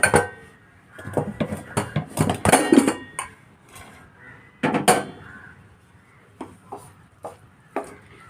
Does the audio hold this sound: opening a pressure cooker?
yes